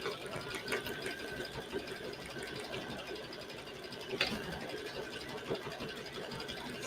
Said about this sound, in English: I will show you how to create a label in the printer.